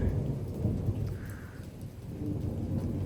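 A severe nighttime thunderstorm with 35 mph wind gusts in Frisco, Texas: heavy rain falls steadily on surfaces while deep thunder rumbles continuously, close and loud, with no voices.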